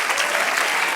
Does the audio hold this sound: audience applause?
yes